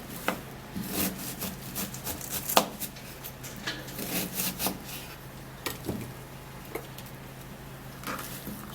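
Steady knife taps on a cutting board while chopping an onion, irregular and fairly quiet, with a faint scraping between strokes and no talking.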